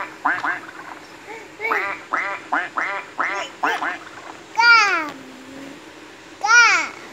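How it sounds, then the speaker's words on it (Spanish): Rapid nasal quacks come in a quick run of short bursts, then two longer, louder honking quacks, close and clear. "Pato, cuac, cuac."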